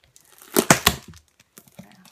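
Loud tearing and crinkling of a heavily packed parcel's packaging in a few quick bursts, followed by quieter rustling and handling noises.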